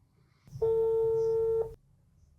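On a Haino Teko T94 Ultra Max smartwatch, an outgoing call gives a single steady electronic tone lasting about a second, clear and close, set against quiet room background.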